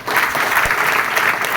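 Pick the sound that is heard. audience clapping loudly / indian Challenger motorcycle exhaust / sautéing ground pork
audience clapping loudly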